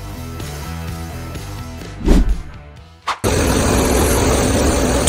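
A Case IH Quad Track 380 tractor engine runs close by with a steady, loud droning rumble, then surges into a rougher, broadband roar after a short dip.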